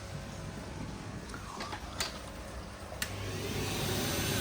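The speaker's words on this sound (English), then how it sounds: "then turn the blower on" Blower running on a pond filter and sieve combo during cleaning, a steady low droning rumble with faint clicks over it that grows slightly louder toward the end.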